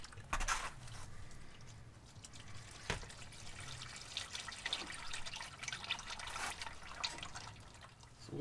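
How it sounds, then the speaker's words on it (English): Engine oil trickles and drips steadily out of the oil pan of a 2017 Ram 1500 with a 5.7-litre Hemi. The flow makes a faint, continuous liquid patter with no talking. "and let the oil drain."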